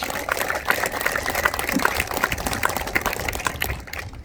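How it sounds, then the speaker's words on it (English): Applause from an audience at a ceremonial groundbreaking for the Tidewater Landing development, a dense steady wash of many hands clapping filling the whole stretch, fairly loud and continuous with no talk over it. "give them a round of applause"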